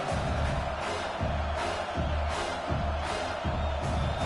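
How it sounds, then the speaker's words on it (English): A home stadium crowd roars in the NCAA 26 college football video game, Oregon versus South Carolina, a loud, sustained cheer that swells and dips in regular waves with no voices standing out. "Man, this crowd really affecting the football game."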